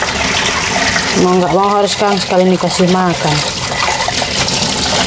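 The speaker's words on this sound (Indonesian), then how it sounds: "Apalagi dengar saya air ini bunyi kan." Water runs steadily from a tap in a home, a loud, close, continuous gushing that fills the whole stretch while someone talks over it.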